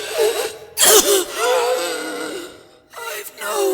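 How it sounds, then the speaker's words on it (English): A narrator acts out a coughing fit while reading a story aloud: harsh, throaty bursts and strained, wheezing breaths come close and loud, with a brief quiet gap before a final rasping round. "Another round of coughing then."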